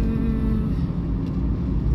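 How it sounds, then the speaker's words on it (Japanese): Heavy road traffic of cars and trucks on the Route 17 Kumagaya bypass in Gyoda, Saitama, a steady loud rumbling roar of passing vehicles with no talk. "非常に車トラックはやっぱり 多いですね"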